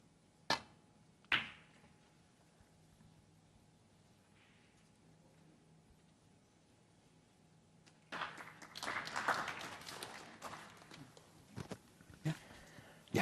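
At a snooker match, a couple of sharp knocks sound early, then a quiet stretch, then a burst of scattered, moderate audience applause that trails off into isolated claps.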